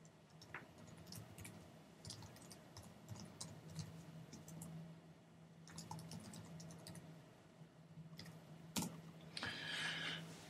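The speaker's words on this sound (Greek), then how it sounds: "πληκτρολογούμε ένα κειμενάκι" Someone types a chat message on a computer keyboard: faint, scattered key clicks in an irregular rhythm over a quiet room hum, with a few sharper taps toward the end.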